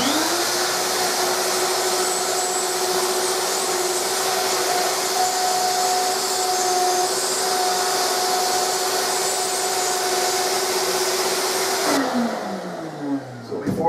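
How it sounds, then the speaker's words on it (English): A wood router cuts a quarter-inch-deep pocket for a bowtie inlay, producing a loud, steady, close high-pitched motor whine that runs continuously before spinning down at the end. "as I route out this whole inside of this, it will clean it all out."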